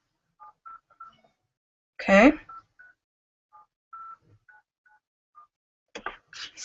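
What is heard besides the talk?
cell phone dialing tones (DTMF)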